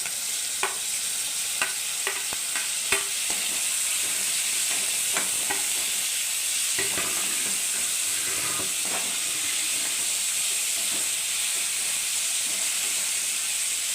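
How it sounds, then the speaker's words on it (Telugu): Tomato added to half-fried onions in a pan, with a few spoon taps early on, then a steady hissing fry that stays loud under intermittent stirring. "సగం వేగిందండి ఉల్లిపాయ ఇప్పుడు టమోటా వేస్తున్నాను"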